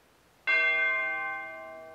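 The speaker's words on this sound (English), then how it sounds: "You carry a bell with you now?" A single bell is struck once, ringing out with a bright, clear tone close by and then slowly fading as it sustains.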